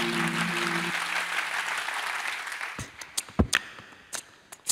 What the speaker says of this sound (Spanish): vamos a hacer un aplauso muy fuerte